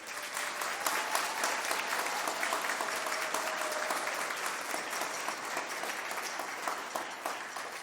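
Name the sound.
audience applause at band concert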